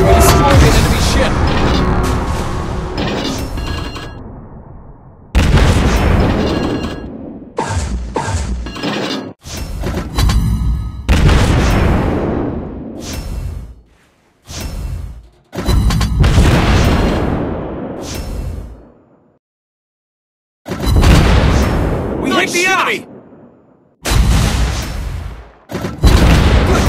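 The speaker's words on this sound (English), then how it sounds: "We're destroying the enemy ship!" Naval battle video game combat, with loud repeated explosions and bursts of gunfire in dense clusters broken by short silent gaps, heavy booming shots and shattering impacts throughout.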